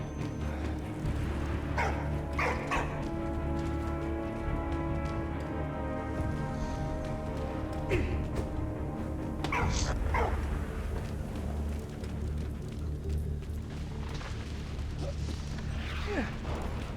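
A dog barks in the game Soldat Inconnu, several sharp yaps scattered over a droning harmonic background, moderately loud and spaced irregularly.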